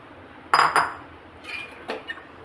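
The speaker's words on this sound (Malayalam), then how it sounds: "ഈ വെള്ളവും കൂടി" A utensil clinks sharply twice against a pan holding papaya erissery, then taps more lightly a few times as the curry is stirred after water is added, with a soft hiss underneath.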